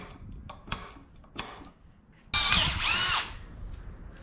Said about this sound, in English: Drill us a pilot hole.